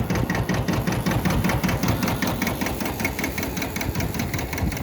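Iseki TS2201 tractor engine running loud and steady nearby with a rapid, even mechanical throb while the hitch is raised and lowered, no talk.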